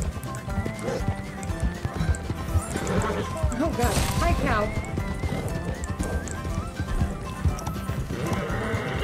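Mustang horses in the video game Red Dead Online clip-clop steadily with a loud whinny near the middle, set against busy game music and ambience while people talk throughout.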